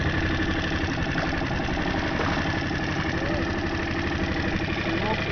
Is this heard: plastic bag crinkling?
no